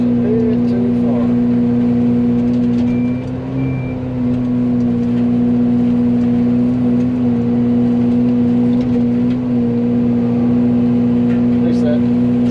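Excavator with a Fecon mulcher head spooling up while clearing an overgrown lot, a loud steady hydraulic and engine drone holding a constant pitch throughout, close and continuous.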